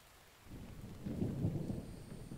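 Rain and a low thunder rumble in the survival video game The Infected, a faint steady patter broken by a muffled rolling swell of thunder about half a second in.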